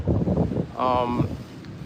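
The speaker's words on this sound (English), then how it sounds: "but that wind's very loud." Strong wind buffets the microphone on a sunny day in the Philippines, a loud low rumble of gusts that comes and goes, with a voice speaking over it.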